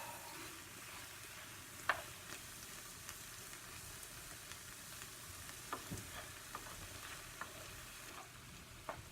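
Mixed autumn fruits simmering in a pan give a quiet, steady bubbling hiss with occasional soft pops and small clinks scattered throughout, no voices.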